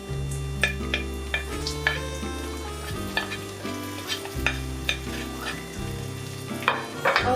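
Tomatoes and green chillies fry with onions in a pan. A steady sizzle sounds beneath a spoon's repeated scraping stirs, with background music playing throughout and no talk.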